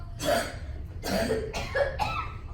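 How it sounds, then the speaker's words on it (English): Several harsh coughs close by, spaced in a short irregular series, loud and dry with no talking around them. "How long have you had that cough now?"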